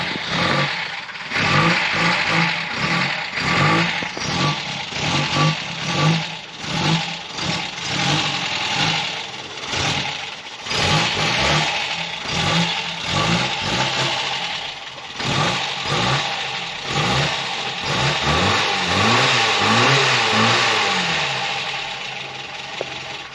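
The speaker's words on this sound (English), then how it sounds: "Can't beat the sound of an old Kent." A Ford Fiesta MK2 with its old Kent engine revs repeatedly, loud and close, rising and falling in bursts over a rough idle with no talking.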